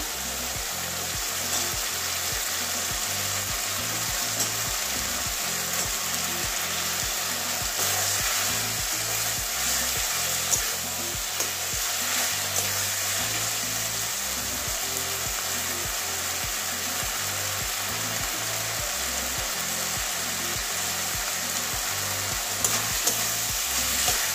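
Cauliflower fries in a thick spiced yogurt masala with oil separating, a steady close sizzle with a rhythmic scraping stir repeating throughout, no voices.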